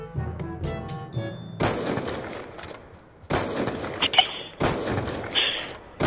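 Bursts of gunfire in Black Ops 2, loud rapid volleys starting and stopping in several separate bursts, with a short tonal game sound between them.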